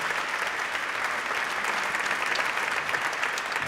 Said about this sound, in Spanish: Fuerte el aplauso también para todas ellas y todos ellos.